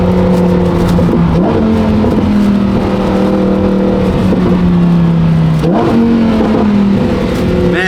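A Lamborghini twin-turbo V8 revs loudly and close, its engine note rising and stepping between pitches in repeated surges, with sharp exhaust pops and crackles between the revs.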